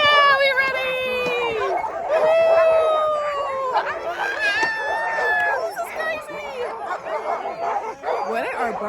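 Many sled dogs in Alaska bark, yip and whine at once in a loud, busy chorus, with high yelps and howls overlapping and a person talking underneath.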